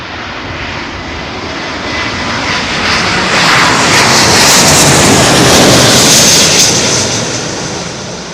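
A jet airliner passes low overhead on final approach to runway 27L at Heathrow, its broad engine roar swelling steadily to a loud peak mid-way and holding there, with no voices.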